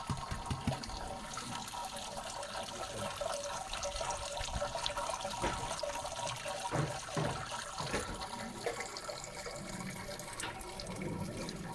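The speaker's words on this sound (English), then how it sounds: "we're just sparging with the 16 liters of water at 70 degrees Celsius" Hot water at 70 degrees Celsius runs over mashed grain while sparging for home-brewed pale ale, a continuous close splashing and trickling flow with occasional drips and knocks.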